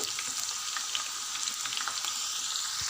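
Broad bean pods frying in hot oil while being made into a preserved pickle, giving a steady close sizzle with scattered crackles and pops throughout and no voices.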